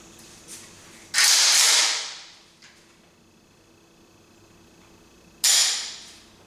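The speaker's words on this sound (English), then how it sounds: "shooting this 12 gauge is going to be like holding a cannon and shooting it" A 12 gauge shotgun fires twice, several seconds apart, each a loud sharp blast with a short decaying tail outdoors.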